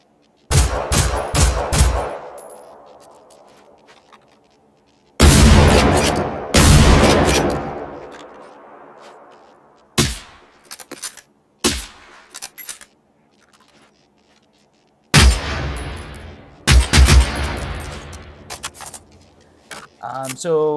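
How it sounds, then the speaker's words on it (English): Gunfire from guns in the video game Generation Zero comes in several sharp, loud bursts of repeated shots, each volley separated by quiet gaps and echoing tails. "I wanted more thump whenever I was shooting certain guns."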